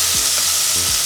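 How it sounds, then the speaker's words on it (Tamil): Tomato sizzles and sautés in a hot pan for mutton intestine curry, a steady close crackle with a couple of spatula stirs scraping through it. "சேர்த்துட்டு நல்லா மையாக வதங்கட்டும்."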